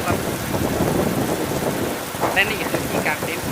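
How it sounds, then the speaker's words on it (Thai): Heavy rain pours down during a thunderstorm on a rainy-season mountain trip, making a dense steady hiss with a low rumble under it, and scattered brighter splashes near the end. "นี่นะครับเราเจอฝนเจอพายุครับ"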